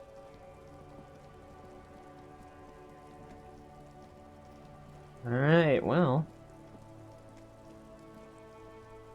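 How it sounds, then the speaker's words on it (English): Steady soft rainfall in the video game Disco Elysium patters continuously at low level, with a brief spoken phrase rising over it partway through. "raining again"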